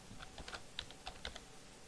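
Quiet, close tapping of keys on a computer keyboard as a short label name is typed, sounding as a brief, uneven run of faint clicks with no voices.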